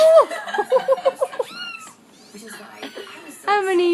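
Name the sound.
young kittens meowing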